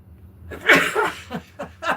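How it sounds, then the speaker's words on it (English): A single close sneeze with a sharp burst, followed by a couple of softer breathy sounds. "I sneezed, everybody."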